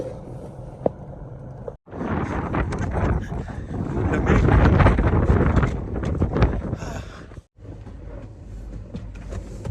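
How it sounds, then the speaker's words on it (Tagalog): Strong gusty wind in Canada rumbles and blasts against the microphone, swelling louder in the middle, with brief drop-outs where the noise cuts away. "lakas pa rin ng hangin, grabe."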